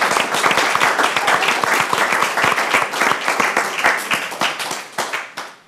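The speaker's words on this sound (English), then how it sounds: "I think we have to clap for that." An audience claps for several seconds after a video poem screening at the Dalí Museum, dense and steady at first, then thinning and tapering off toward the end.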